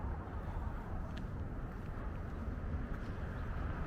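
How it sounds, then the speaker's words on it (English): Wind gusts across a city street beside the Charles River, a constant, loud, rumbling roar buffeting the microphone with no voices. "even though it feels pretty breezy out here"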